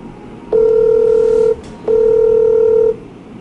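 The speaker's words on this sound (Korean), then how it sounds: "실장님한테 한번 전화해볼까요?" A phone places an outgoing call, giving two loud, steady ringback tones of about a second each with a short gap between them. The tones are clean and close.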